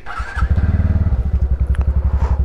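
A 2021 TVS NTorq 125 scooter engine runs with a steady, throbbing, bike-like putter, close and loud, its low pulsing rhythm holding even throughout.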